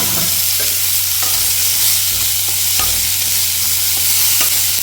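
Curry leaves and boiled chickpeas frying in tempering oil with mustard seeds and asafoetida for sundal, a close, steady sizzle with intermittent spoon stirring scrapes and taps, no one speaking.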